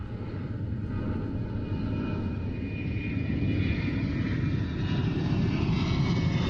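A Grumman A6 Intruder attack plane drones through flight with a loud, steady engine roar that holds throughout, with no voices.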